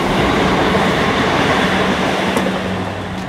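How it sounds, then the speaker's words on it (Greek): A train rumbles past nearby, a steady loud roar of wheels on rails with faint clacking and a brief high squeal near the end, no voices. "Τρένο, τρένο, τρένο, τρένο,"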